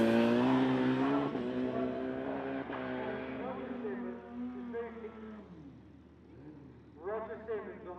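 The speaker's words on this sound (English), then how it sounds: "Roger Simmons on the Suzuki hayabusa turbo." Turbocharged Suzuki Hayabusa motorcycle racing at speed along a seafront street course, its engine a loud, high, steady whine that drops in pitch as it passes, fading before a commentator's voice comes in.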